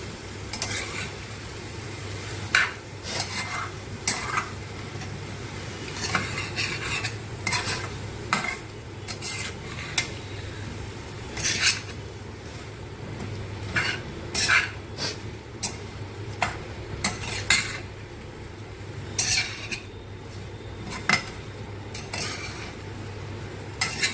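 A utensil stirs cauliflower and potatoes in a pan, scraping and clinking against the metal in irregular strokes over a steady low sizzle, close and alone.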